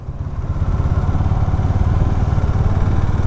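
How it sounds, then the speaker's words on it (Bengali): A TVS motorcycle being ridden near a checkpoint on a road, its engine giving a steady, close, loud low rumble with slight uneven pulsing throughout. "টিভিএসের বাইক ইউজ করছি"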